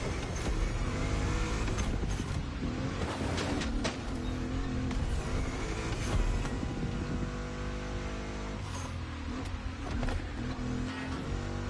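A race car's engine roars loud and unbroken during a race in the video game The Crew Motorfest, rising and falling slightly as it revs.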